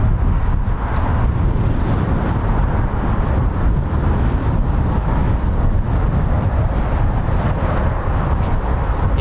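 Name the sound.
brutal cold wind blowing at outdoor airfield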